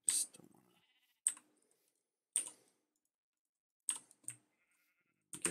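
Sheep in the Minecraft video game bleat in short, bright bursts, about five calls spaced by quiet gaps, fairly faint and close.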